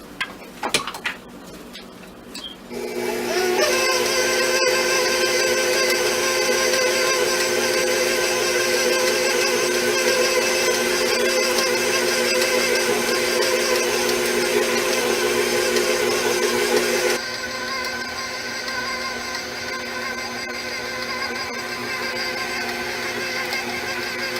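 An electric mixer churns a meatball mixture of Italian sausage, running as a loud steady motor whine with strong harmonics that starts after a few seconds and drops in pitch and volume near the end, with no talk.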